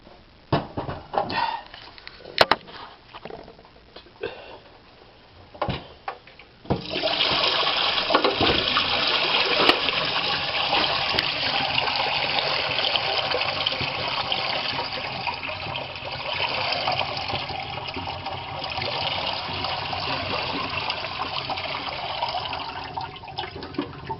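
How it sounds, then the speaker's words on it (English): Water from a full dehumidifier bucket pours out in a long, steady rushing stream for most of the clip, loud and continuous after a few seconds of scattered handling knocks. "So I'm getting ready to dump that out."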